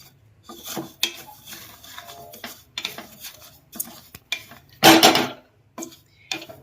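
Mustard and fenugreek seeds dry-roasting in a pan over a low gas flame, heard as intermittent scraping and rasping bursts from stirring, with one louder clattering scrape near the end.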